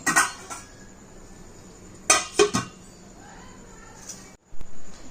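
Metal pot lid clattering onto a pot of viral fish curry made from lake-caught fish: a couple of sharp clinks at the start, a burst of clanks midway, then a final thud, with quiet kitchen background between.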